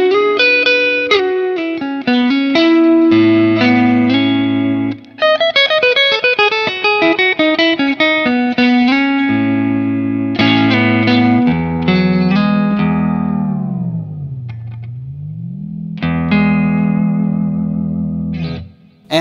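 A Yamaha Pacifica electric guitar with Lambertones pickups plays distorted, chorus-tinged riffs, sustained notes and a long pitch bend that dips and rises, loud and close, with no talking.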